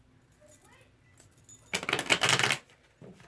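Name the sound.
shuffling tarot cards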